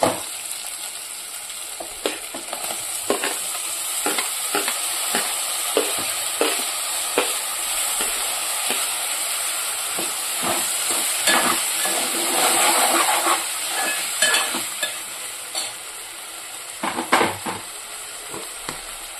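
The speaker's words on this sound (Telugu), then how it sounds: "ఇప్పుడు టమాటా ముక్కలు వేసేస్తున్నాను చూసేయండి" Tomato pieces for a cucumber-tomato curry fry in a pan with a soft, steady sizzle, punctuated by repeated sharp scrapes and taps of a spatula stirring; no voices.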